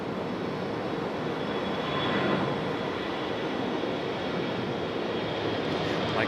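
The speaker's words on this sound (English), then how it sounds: "A321 headed to Salt Lake City" An Airbus A321 takes off from Raleigh-Durham International bound for Salt Lake City, a sustained, even engine roar that swells slightly in the middle.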